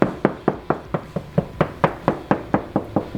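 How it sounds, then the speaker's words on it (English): Steady series of about thirteen hollow knocks on a shiplap wall, evenly spaced and fairly close, with nothing else in the background. "basically just kind of knocked on the wall"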